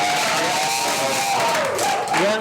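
Crowd clapping and cheering in a studio audience at a Jakarta sports talk show about handball, a dense steady wash of applause with shouts throughout.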